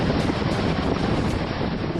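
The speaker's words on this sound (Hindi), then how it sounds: "उफान की आवाज डरावनी थी।" Swollen floodwater roars in a rain-fed river in Kutch, Gujarat, a dense, continuous rushing wash mixed with wind buffeting the microphone, loud and steady throughout without any voices.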